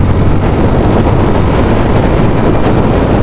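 2025 Yamaha FZ-X motorcycle accelerating through the gears near 7000 RPM, a loud, steady roar heavily mixed with wind rush, with no talk.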